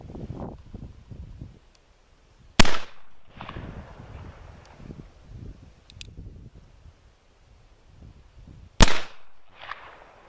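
An 1851 Navy black powder revolver fired one-handed, two sharp, loud cracks several seconds apart, each ringing out briefly amid quieter shuffling and handling noise.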